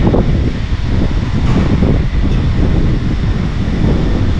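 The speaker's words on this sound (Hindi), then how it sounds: "बहुत तेज़ हवा चल रही है" Strong wind roars steadily against the microphone in Bangkok, a loud continuous rumble and buffeting with no voices.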